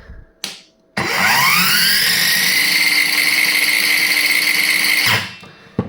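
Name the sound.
Ronix cordless circular saw running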